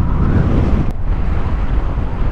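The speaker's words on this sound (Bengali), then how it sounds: "প্রচন্ড বাতাস প্রচন্ড" Strong wind buffeting the microphone while riding a motorbike along Marine Drive by the sea, a loud continuous low roar that barely dips for a moment before surging again.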